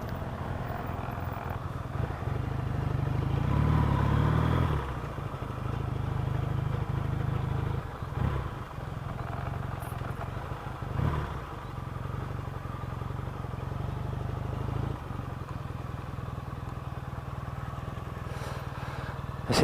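Yamaha XS650 US Custom motorcycle riding near a supermarket car park, its engine droning steadily with a brief louder rev early on and occasional dips, moderately close and with no talking.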